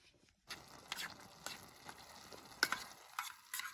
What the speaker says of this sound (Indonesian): Aku mau masak dulu.